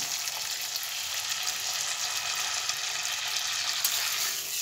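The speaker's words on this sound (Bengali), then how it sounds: "মশলা থেকে তেল ছেড়ে দিয়েছে, আমি পরিমাণ মতো একটু জল অ্যাড করব।" Hot prawn curry masala, its oil already separated, sizzles loudly and steadily after water is added to the pan, a dense, continuous frying hiss with faint crackles throughout and no voices.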